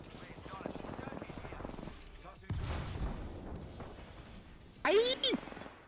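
Rapid bursts of video game gunfire under ongoing excited talk, with a louder cluster of shots near the end of the stretch.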